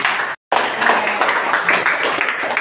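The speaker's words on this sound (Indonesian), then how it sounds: "Tepuk tangan semuanya" A group applauds in a classroom at a teacher-training session, a steady, dense wash of clapping that cuts out for a split second and then carries on evenly to the end.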